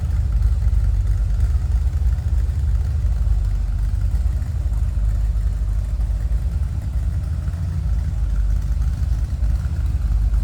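A 1960 Chevrolet Impala Sport Coupe engine running, a steady, deep, rumbling exhaust note at idle, loud and close, continuous with no talk.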